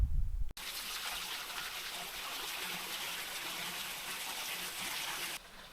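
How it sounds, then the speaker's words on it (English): A small roadside waterfall along a fast descent on a climbing bike ride, its steady rushing splash of water constant and close after a brief gust at the start, then cutting off near the end. "A little waterfall there."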